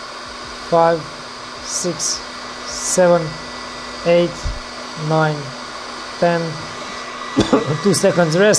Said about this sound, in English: warm up the heat gun pretty good